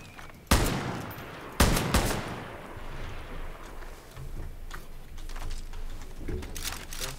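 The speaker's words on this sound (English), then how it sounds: "I'm shooting it down." Two sharp, loud gunshot bursts crack out in the Far Cry New Dawn video game, followed by softer scattered pops and rumbling ambience in the background.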